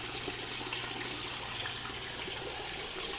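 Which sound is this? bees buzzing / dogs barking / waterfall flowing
waterfall flowing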